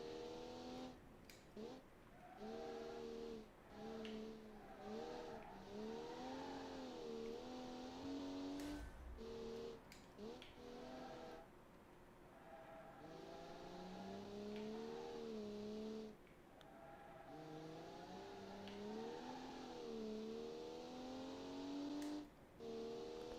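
A race car engine in a BeamNG racing game rises and falls through repeated revving pitch sweeps as it accelerates and shifts, broken by short dips for braking, with a faint tire squeal.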